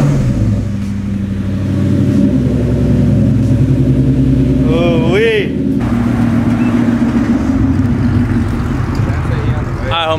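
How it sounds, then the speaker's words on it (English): The engine of a Ford Mustang starting up and idling with a deep, loud, steady rumble that runs the whole way through, with a voice briefly heard over it partway. "Let's go ahead and turn on the Mustang real quick."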